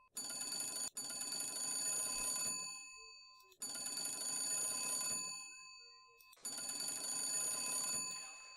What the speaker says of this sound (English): Is that not a phone?